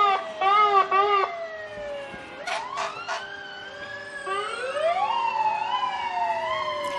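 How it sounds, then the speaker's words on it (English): A new fire engine in a Fourth of July parade sounds its siren while passing: short whooping yelps first, then air-horn blasts and a long rising wail over crowd murmur, fairly close. "that first vehicle that went past, that was the new engine"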